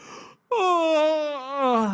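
A long, drawn-out vocal yawn during prayer, with a rising then slowly falling moan-like tone, close and fairly loud, after a brief silence.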